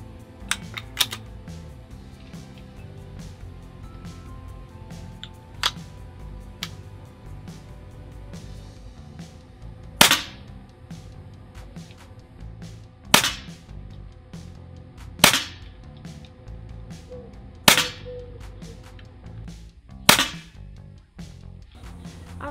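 Weihrauch HW70A air pistol firing JSB Match Diabolo pellets: six sharp, loud single shots spaced a few seconds apart, with small clicks and handling sounds between them and no talking.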